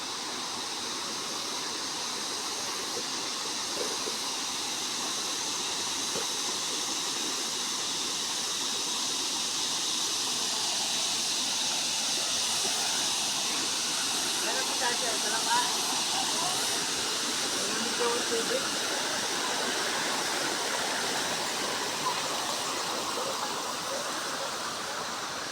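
Continuous hissing rush of a river flowing at a resort in Liliw, Philippines, steady and fairly loud throughout, with no clear breaks.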